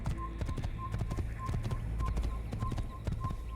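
Horse hooves clip-clop in the Assassin's Creed video game, a quick steady galloping rhythm of close, distinct hoof strikes with faint snorting, continuous across the short stretch.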